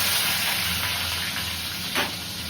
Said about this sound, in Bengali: ফোড়নে 5 ফোড়ন, এগুলোকে অল্প করে তেলে ভেজে নেবেন